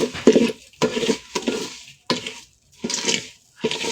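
Aromatic atop rice frying in a pot, stirred with a utensil: several short, close scraping bursts and light clinks come in an uneven rhythm, separated by brief quiet gaps.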